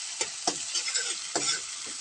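Garlic and onion sautéing in a pan for spaghetti, a steady close sizzle broken by several sharp scraping stirs of a utensil, with no talking.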